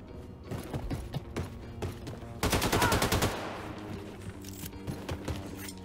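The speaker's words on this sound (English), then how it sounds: "Blazkowicz, hop on the nuclear cannon and fire it to maximum distance" A nuclear cannon fires in the Wolfenstein II video game: a loud, dense burst of rapid repeating blasts lasting about a second, set among ongoing in-game gunfire and mechanical clatter.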